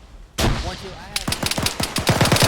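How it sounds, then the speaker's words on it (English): Rapid bursts of automatic rifle fire and single gunshots in the military video game ArmA 3, near and loud, with a clattering cluster of shots followed by a dense rhythmic volley; a voice is briefly heard early on. "There's still more fire coming from over there, it sounds like."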